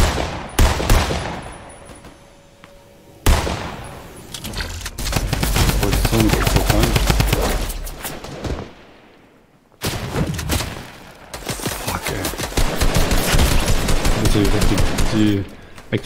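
Rapid bursts of video game gunfire from a Fortnite match, loud and dense, broken by short pauses, with in-game sound effects and players talking over the shooting.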